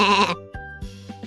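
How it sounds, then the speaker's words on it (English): A sheep lets out one short, loud bleat up close, followed by a brief quiet stretch where only soft plucked music tones continue. "A sheep says, baa, baa."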